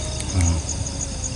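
Crickets chirp at night during a bird hunt in a steady high trill, with a few brief louder pulses in a short stretch of outdoor ambience.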